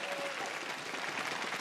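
An esports arena crowd cheers and applauds as a League of Legends match begins, a dense, steady roar of clapping and voices heard from a distance across the short stretch.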